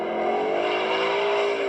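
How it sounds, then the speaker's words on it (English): A 2015 Ford Mustang GT with a 5.0 V8 roars in a steady, loud drone close by as it runs hard, with no voices. "It's a pleasure just to hear this Mustang roar."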